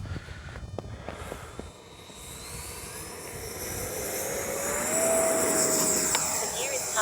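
An E-flite 70mm Viper RC electric ducted-fan jet passes overhead outdoors, its thin whine rising and growing louder toward the end over steady wind noise, with faint footsteps early on.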